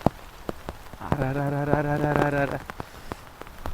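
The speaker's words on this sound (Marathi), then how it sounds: "कसला तुफान पाऊस आहे" Heavy monsoon rain pours and patters steadily on surfaces under a dark sky, with scattered sharp drips, while a voice calls out briefly and a sustained tonal cry rises over the rain for about a second.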